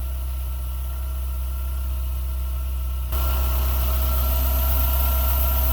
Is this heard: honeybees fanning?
no